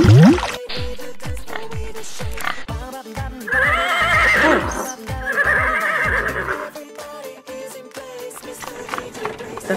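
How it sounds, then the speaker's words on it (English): A horse neighs loudly and close, a long shaky whinny rising and falling, with snorting breaths and a clatter of hooves or movement around it. "The horse pulls heavy things."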